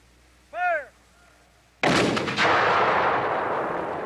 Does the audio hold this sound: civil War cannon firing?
yes